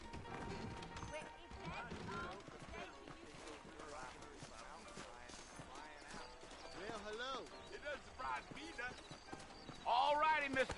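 Horse hooves clip-clop in a steady trot in Red Dead Redemption under people talking, with a horse whinnying near the end.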